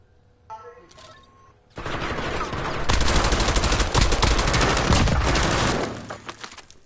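Rapid shotgun and automatic gunfire in a battle royale video game, a short burst followed by several seconds of loud, dense, continuous shooting that then tapers off.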